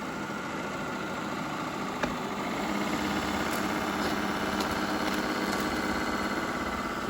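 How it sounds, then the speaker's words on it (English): Shark IQ robot vacuum without self-empty bin running its brush rollers on carpet, a steady loud whirring motor drone with no pauses and no voices. "that's not even a suction sound, that's the rollers"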